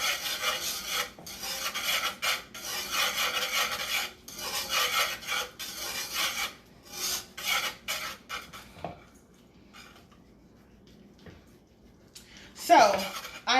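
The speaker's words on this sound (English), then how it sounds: "I am using a grater that is not Pampered Chef, and this is why it's taking us a little longer than usual." A hand grater rasping food in a kitchen while a shrimp Alfredo is made, with rhythmic scraping strokes in bursts for several seconds, close and clear, then a pause and a brief clatter near the end.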